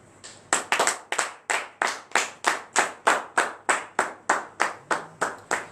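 A church congregation at a morning prayer service claps hands in acclamation, about eighteen sharp, evenly spaced claps in a steady rhythm, fairly close and with no talking.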